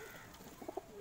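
A Punjabi Malwai pigeon gives two short, soft coos close by, faint against a quiet background.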